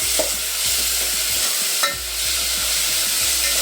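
Fenugreek and tomato fry in a pot as a spoon stirs them, a loud close sizzle broken by rhythmic scraping strokes and a couple of sharp knocks, with no one talking.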